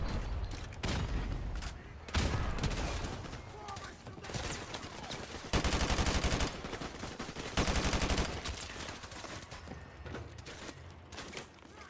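Call of Duty 4: Modern Warfare Remastered combat with an Uzi and enemy gunfire. Dense bursts of automatic fire come in repeated loud clusters, with quieter gaps between them and faint voices underneath.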